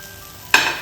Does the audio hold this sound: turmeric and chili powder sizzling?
yes